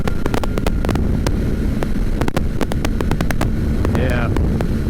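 A Kawasaki ZX-4RR motorcycle is ridden on a wet road at around 70 mph, and a loud, constant rush of wind buffeting the rider nearly buries the engine's drone.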